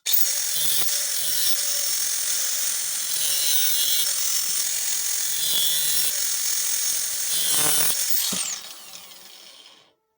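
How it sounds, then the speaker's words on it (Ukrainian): A harsh, high-pitched grinding whine cuts steadily for several seconds, then the motor winds down and fades to silence. "Беремо шліфувальну бокову машинку, болгарка їх в народі називають."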